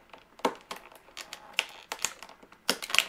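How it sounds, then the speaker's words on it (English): Sharp plastic clicks and snaps from cutting a plastic closet rod in a Rainbow High doll trunk, about half a dozen close, crisp bursts spread irregularly over a few seconds with no talking. "Come in, snip that rod."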